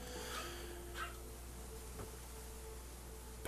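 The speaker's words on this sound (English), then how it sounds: "Fucking dog is barking up a storm." A dog barks in a handful of separate bursts within the game Fallout 4, set against a steady low hum of ambient game sound.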